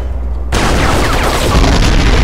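A grenade blast in a video game hunting Granny: a sudden loud broadband burst after a brief quiet moment, followed by sustained crackling rumble and debris noise.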